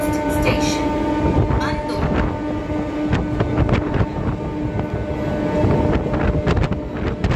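A passenger train rolls toward Uluberia station, a loud continuous rumble heavily buffeted by wind noise across the microphone, with faint voices in the carriage.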